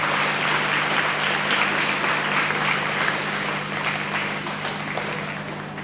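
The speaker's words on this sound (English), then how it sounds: "Please give them another round of applause" An audience at the Fayette County Free Fair Queen Pageant applauds for the Little Miss contestants, a dense, sustained wash of clapping that holds steady and slowly fades over several seconds.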